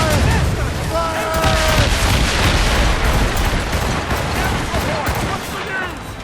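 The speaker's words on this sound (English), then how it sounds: "They're firing a volley!" Enemy warships fire a rolling cannon volley in the Assassin's Creed Rogue naval battle, a dense barrage of booms over roaring sea and wind, with shouted crew voices.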